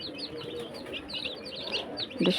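Chickens in a village yard give soft clucks and chirps at a moderate distance, a continuous thin chatter of calls.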